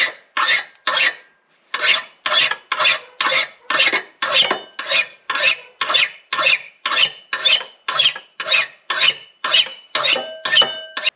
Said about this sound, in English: for now I can take this file and just kind of put a little bit more of an edge on them